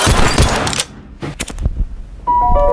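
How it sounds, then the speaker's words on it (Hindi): Loud automatic gunfire from a gangster movie scene rattles in a dense burst, followed by scattered thuds and shots before another loud burst. "हान यहाँ पर उसके साथ धोखा करने के लिए मंचोल को गोलियों से भून देता है।"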